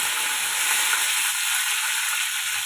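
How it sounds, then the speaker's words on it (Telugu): Curry leaves crackling and spitting in a little hot oil for a Telugu chutney tempering, a dense, steady sizzle with fine popping throughout, close and loud with no talk. "కరివేపాకు వేస్తే చిటపట చిటపట అంటుంది."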